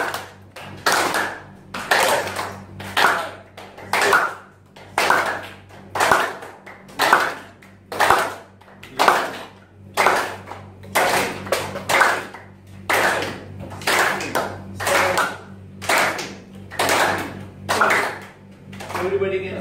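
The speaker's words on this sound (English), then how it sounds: "Everybody has to clap like this." A group claps hands in slow, regular rhythm as a health exercise during a talk, each loud clap evenly spaced about a second apart and repeating for twenty seconds over a low steady hum.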